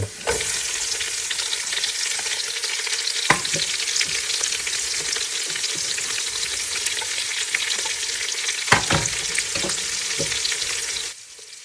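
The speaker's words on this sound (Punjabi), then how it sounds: "ਹੁਣ ਪਾਉਨੇ ਆ ਪਿਆਜ਼ ਇਹਦੇ ਵਿੱਚ" Onions fry in a hot pan for a goat curry, a loud, dense, steady sizzle close up with occasional stirring scrapes, then the hiss drops away at the end.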